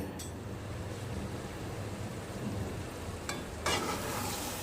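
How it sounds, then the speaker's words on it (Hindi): A spoon gently stirring okra in a pot keeps a steady, soft scraping and sizzling going under low background noise, with a couple of brief louder scrapes near the end. "एक साइड से अच्छे से इसको आराम से इसको हिलाना है, भिंडी टूटे नहीं।"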